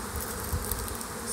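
A swarm of honeybees hums in a dense, continuous drone near a beekeeper's apiary, steady and fairly loud throughout the short stretch with no voices.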